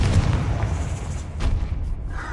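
The Confringo blasting spell in the Hogwarts Legacy video game goes off as a deep, rumbling explosive boom with a crackling burst, followed by lingering low rumble and a few sharper pops.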